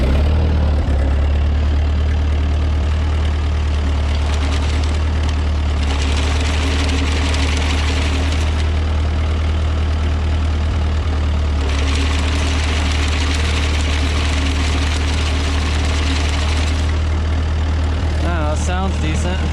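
The engine of a No. 5 sickle mower under repair idles steadily, loud and close, with a deep constant drone that grows louder in two bursts while people talk over it.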